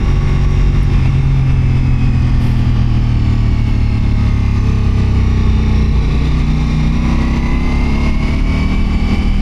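Steady motorcycle engine drone while riding along a road, a loud continuous low rumble with wind roar throughout and no talking.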